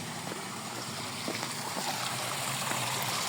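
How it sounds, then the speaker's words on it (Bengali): Water spills steadily down a small roadside waterfall at Alutila, a continuous rushing wash with faint gurgles running through the whole stretch. "পানি পড়তেছে নিচ দিয়ে"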